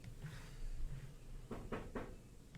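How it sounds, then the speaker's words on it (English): Knocking on a door, a quick run of three sharp raps followed by a fainter fourth, heard indoors at moderate distance over a low background hum. "Somebody knocking on the door, dude."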